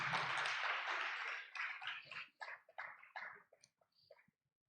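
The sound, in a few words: audience applause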